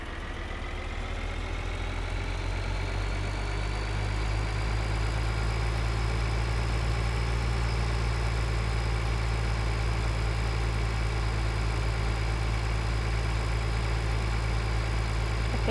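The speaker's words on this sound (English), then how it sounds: "I'm gonna get this tractor and I'm gonna have him seed the new field." A tractor engine idles steadily in Farming Simulator, a constant low droning hum with a faint high whine, running alone and unchanging throughout.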